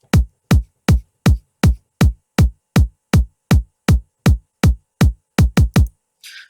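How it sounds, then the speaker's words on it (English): A 909-style kick drum sample programmed in LMMS thumps a steady four-on-the-floor beat, about fifteen deep punchy hits, with an extra quick kick near the end, alone and loud, followed by a brief faint noise burst. "a 4 on the floor kick pattern with a second kick at the end."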